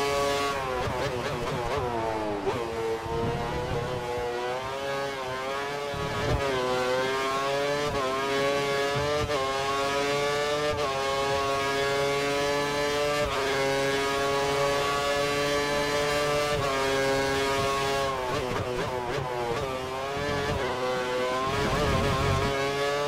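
A Formula 1 car's engine screams at high revs in F1 2013 on the Brazil circuit, with rising and falling pitch through gear changes, loud and constant.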